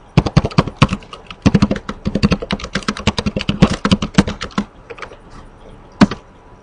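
Commands typed on a computer keyboard while configuring network switch trunking, a steady run of close, crisp key clicks with short pauses and one sharp final keystroke, no voices.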